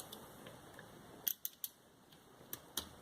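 Scissors cut vinyl wrap for an iPod mini in a handful of sharp, close snips spaced irregularly over a quiet background, with no talking.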